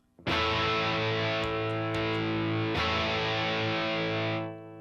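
An electric guitar played through a distortion pedal set to maximum gain rings out as loud, saturated sustained chords, with a re-strike partway through, before decaying at the end.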